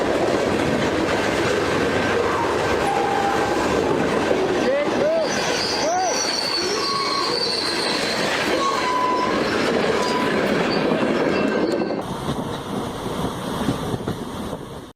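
A massive locomotive passes on rails with a loud, continuous rumble and clatter of wheels, brief squeals and tonal whines, close by, easing slightly toward the end.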